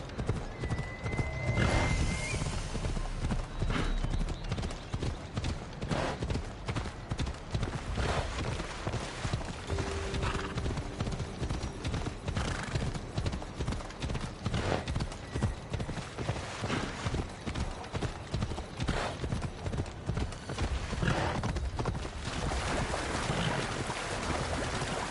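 A horse in Assassin's Creed Odyssey trots on with a continuous, rhythmic clip-clop of hooves, close and loud throughout, over a wind-like ambient bed with a brief whinny near the start.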